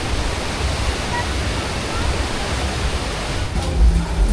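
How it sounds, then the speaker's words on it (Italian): Heavy rain pours down in a steady, dense roar that fills the whole stretch at night in the Peruvian mountains near Machu Picchu. It is loud and close throughout, with a slight swell near the end. "diluviando ragazzi, sta diluviando"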